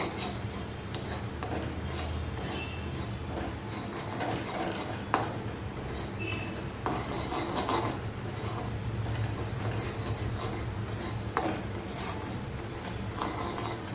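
Flour being stirred into a white sauce base in a metal pan, a close, continuous run of scraping and clinking from the spoon with a few sharper knocks against the pan, steady throughout with no voices.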